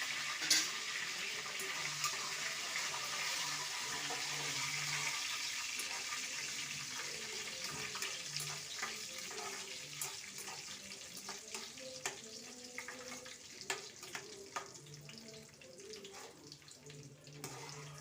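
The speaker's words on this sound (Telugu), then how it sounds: "1 స్పూన్ ఆవాలు, 1 స్పూన్ జీలకర్ర, అన్నీ వేసుకొని వేయించుకోవాలండి." Mustard seeds and cumin fry in hot oil for tempering a small gooseberry chutney, a continuous sizzle with scattered sharp pops and crackles throughout.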